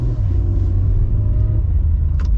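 A new Acura NSX supercar in quiet mode pulls away with a loud, close, steady engine rumble and road roar that holds for a couple of seconds, with no voices.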